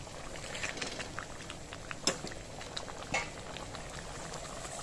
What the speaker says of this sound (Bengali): ডালটা ভালো করেই ফুটে গেছে